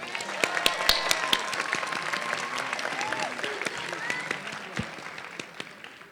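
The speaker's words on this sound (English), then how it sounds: "Please join me in giving Greg another round of applause." Audience applause at a graduation celebration, a dense, sustained clapping from a crowd that carries evenly through the whole stretch with scattered sharper claps, fairly distant and moderate in level.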